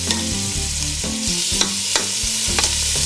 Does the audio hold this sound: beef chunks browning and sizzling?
yes